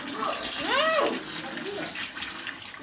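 Water gushes hard from a burst pipe during a blockage repair, a steady rushing flow with a brief tonal whistle near the start, while people talk nearby.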